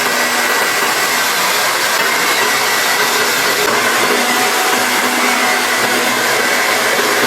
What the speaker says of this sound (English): Blow dry my hair this way just to create more volume.